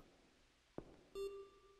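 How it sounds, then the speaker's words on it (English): A sharp electronic beep sounds in the horror video game Dreamcore, first a brief blip and then a sustained steady tone lasting about half a second, clear against a faint ambient background with no talking. "That was a beep."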